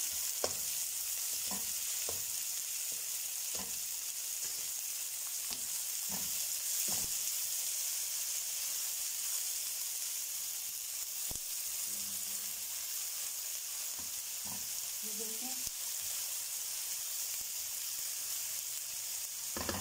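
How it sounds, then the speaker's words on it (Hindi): Onions frying in a pan, a soft continuous sizzle and hiss with occasional sharp stirring clicks, close and fairly quiet, no talking. "अब हम इसके अंदर डालेंगे प्याज। इसको अच्छी तरह से भून लेना है।"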